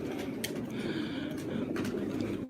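Pigeons coo softly and repeatedly at a loft in Osmaniye, low murmuring calls blending into a steady background with a few sharper bird noises, no talk.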